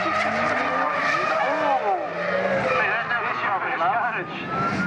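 A drift car skids at a drifting event, tires squealing in long wavering screeches with the engine droning beneath, under steady commentary.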